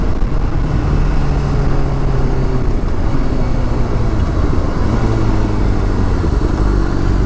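A 2007 Honda CBR600RR and a 2006 Yamaha R6 ride together: a steady, loud, close engine roar with wind rush that continues unbroken throughout.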